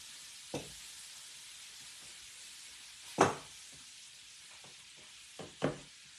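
Fried apple pies cook in butter in a skillet, giving a faint, steady sizzle with a few sharp knocks and clatters from the pan spaced across the quiet stretch.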